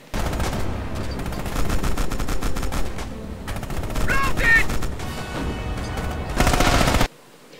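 A tank-mounted machine gun in a video game fires in long, rapid continuous bursts, a dense loud rattle that runs for several seconds before cutting off abruptly.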